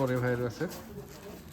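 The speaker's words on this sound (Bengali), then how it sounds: "হাসান ভাই দুইটা কবুতর ছিল আছে সেজন্য কবুতর দেখাবো" Low cooing from Giribaj pigeons in a short rolling burst near the start, followed by a brief voice and quieter background sounds.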